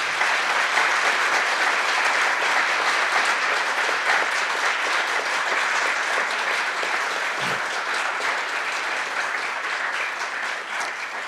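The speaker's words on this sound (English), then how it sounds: "how about a round of applause for our panelists?" A dense, steady round of applause from an audience honoring panelists at a Food Inc discussion forum, loud and continuous for about eleven seconds before easing slightly at the end.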